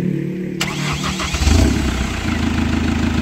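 Chevrolet Captiva NFL AWD diesel engine cranking briefly, then catching and settling into a steady, close idle rumble.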